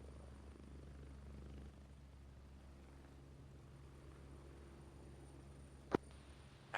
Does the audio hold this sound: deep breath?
no